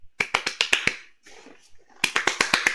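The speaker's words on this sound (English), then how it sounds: "I'm clapping my hands to every part of this motherfucking song" Hand claps keep time with a song, a quick run of sharp, close claps, then a short gap with faint music, then another steady run of claps.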